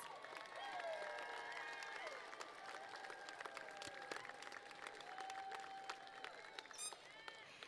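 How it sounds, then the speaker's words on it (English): Applause for honor scholars at a college commencement, a spread-out crowd clapping at moderate distance with scattered cheers and brief voices mixed in, fairly faint and continuous throughout. "Let's give them all a round of applause"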